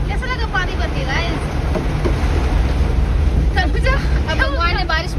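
Heavy rain pours outdoors in Himachal Pradesh as a loud, continuous broadband hiss, with voices talking over the downpour at intervals.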